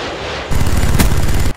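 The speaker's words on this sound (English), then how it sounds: "Friendly Predator missile inbound" A Predator missile strikes in a video game, setting off a loud, dense roaring blast that lasts about a second over steady background game noise.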